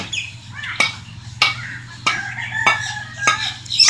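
A zoo bird squawks and calls in a steady rhythm of sharp, evenly spaced cries, close and moderately loud over a low hum.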